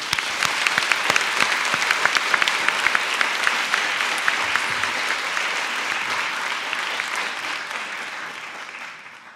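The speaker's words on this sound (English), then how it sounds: "Please join me in the round of applause for Екатерина." An audience at a lecture welcomes the speaker with sustained applause, dense clapping with sharp individual claps standing out up front, gradually fading over the final seconds.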